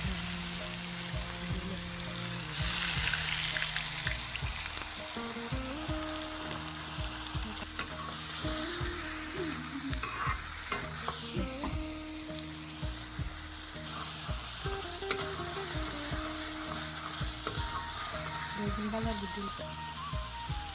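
Onion, ginger and garlic paste frying in oil for an egg bhuna, a dense continuous sizzle with stirring clatter throughout, close and fairly loud.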